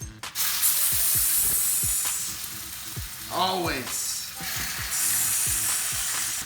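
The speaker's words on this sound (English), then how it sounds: "We're gonna get it real hot on this side. Get a nice sear on there." A lingcod fillet sears in a very hot pan, giving a loud continuous sizzle with a few soft knocks and a brief rise in the fry partway through, heard alone without talk.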